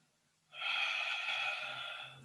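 A long, steady breath out during a yoga forward fold, close and soft, lasting nearly two seconds after a brief quiet start, with no talk.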